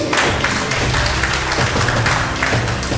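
An audience at a company celebration applauds, a loud, close wash of clapping that stays dense and steady for a few seconds.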